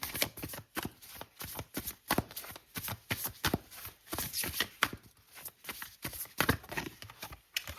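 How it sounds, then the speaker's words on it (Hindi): Tarot cards being shuffled in a continuous run of quick papery riffles and slaps, close and fairly loud, with no voices. "लेकिन हम अलग से कार्ड निकालते हैं क्या सब होने वाला है इस सप्ताह में।"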